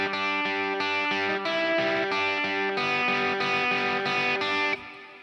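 Overdriven electric guitar plays a lead over a ringing open G pedal tone, with effects. The line is steady and sustained for about five seconds, then drops off near the end.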